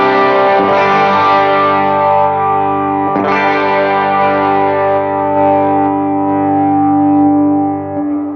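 Sustained electric guitar chords with gritty overdriven breakup and compression, loud and thick, with a fresh strum partway through and a long ringing decay.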